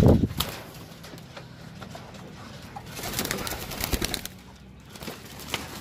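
Pigeons coo softly at a loft, a faint, low murmur with some rustling and scattered background noise around it.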